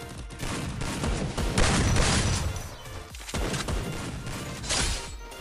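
Dense, rapid gunfire and bursts of impact noise from the mobile battle game Garena Free Fire, played on the Purgatory map in Clash Squad mode, loud and continuous with a short lull near the middle and no talk.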